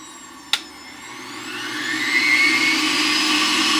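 Breville JE98XL Juice Fountain Plus juicer running on its high setting, a loud, steady high-speed motor whine that builds and holds after a sharp click at switch-on, with no voices.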